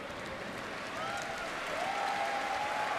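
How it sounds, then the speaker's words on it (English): A basketball arena crowd applauds a closing win for Alab Pilipinas against CLS Knights Indonesia, a steady, fairly distant wash of clapping that builds slightly across three seconds. "Crowd already applauding this win for Alab Pilipinas."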